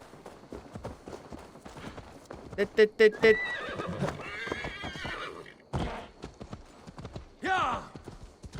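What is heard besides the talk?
horse hooves and neighing in Assassin's Creed Valhalla video game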